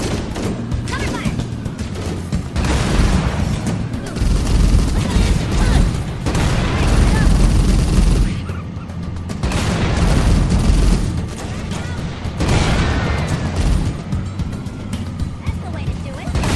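Gunfire in the Halo: Combat Evolved Anniversary video game, dense bursts of weapon fire and booming blasts running almost continuously and loudly, with soldiers' voices calling out amid the battle.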